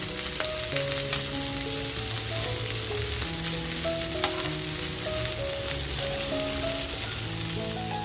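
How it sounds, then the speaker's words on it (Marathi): Stuffed squid fries in a pan with a steady, close sizzling hiss and occasional stirring sounds, and no talking. "आता आपण हे व्यवस्थित फ्राय करून घेऊया."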